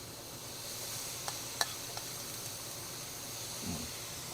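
Food fries in oil with a soft, continuous sizzle and hiss, broken by a few faint clicks and a low stirring scrape near the end.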